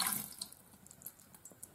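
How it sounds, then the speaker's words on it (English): A cup of water pours into an Instant Pot pressure cooker, a brief splashing burst at the start that trails off into faint drips and trickles. "So let's put 1 cup of water in there."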